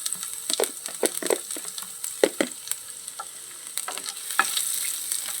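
Garlic and cumin seeds hit hot wood-pressed oil in a pan, giving a soft, close crackling sizzle with scattered sharp pops and stirring taps that settles into a steadier hiss near the end.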